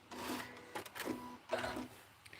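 A sewing machine stitches a quilt seam forward and back in three short, quiet whirring bursts separated by brief pauses.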